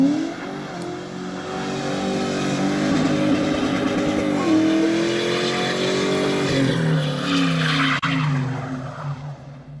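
Rear-wheel drive Mustang trying to spin a donut in the snow, its engine revving hard and climbing in pitch over a sustained wheel-spin whine, loud and close, with a brief dip partway through.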